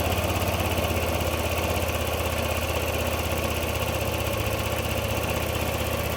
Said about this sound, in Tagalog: hindi na nga hirap paandarin ng motor, one click na nga ito